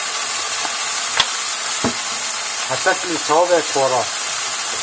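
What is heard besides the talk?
tomatoes sizzling as they are stirred in a pan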